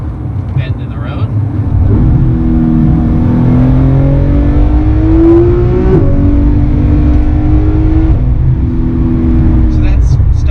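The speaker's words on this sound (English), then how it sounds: "We can give it some revs here." A Porsche GT3 RS with a swapped exhaust revs and accelerates hard to about 7,500 rpm in second gear on a winding road, heard from inside the car, its loud engine note climbing in pitch then dropping at the shift.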